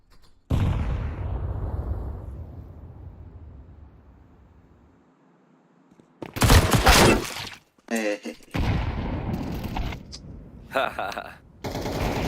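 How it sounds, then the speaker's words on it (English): A grenade bursts in a tactical video game with a loud booming blast that slowly decays into a rumbling tail, followed by sharp bursts of gunfire, shattering and game voice callouts. "Throwing a grenade."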